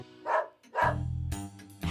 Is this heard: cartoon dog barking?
yes